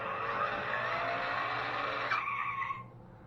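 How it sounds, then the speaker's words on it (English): An RC Savage off-road 4x4 toy truck plays its electronic car noise on takeoff, a steady tire-squeal and revving engine sound from a small speaker that cuts off abruptly near the end. "But it does make noise when you take off, like a car noise."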